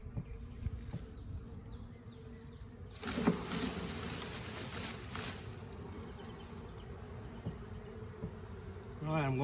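A swarm of honey bees buzzes in a dense, continuous drone that swells louder partway through, close and steady, with a brief voice at the end.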